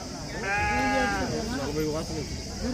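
Several sheep, part of a flock of about 140 at the Gudur sheep market, bleat close by in a wavering chorus, with a crowd murmuring in the background.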